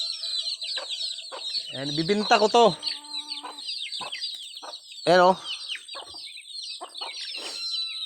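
Chickens cluck and squawk on a backyard farm, with a few loud bursts of fowl calls close by and someone talking briefly between them.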